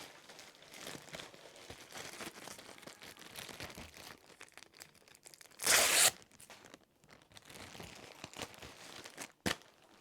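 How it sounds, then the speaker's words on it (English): Plastic poly mailer bag crinkling and rustling up close as folded jeans are slid inside, soft irregular crackles with one loud, sharp burst of crumpling midway and a brief snap near the end. "Take our poly bag."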